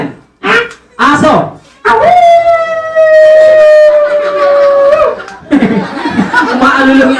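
A person imitates a dog howling: a long sustained wavering howl with a few short vocal bursts before it and laughter-like sounds after, close and loud.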